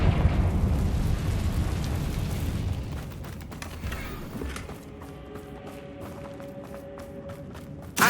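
Confringo fire spell explosion in Hogwarts Legacy, a loud rumbling blast that fades into softer rattling and thumping debris, then quieter game ambience.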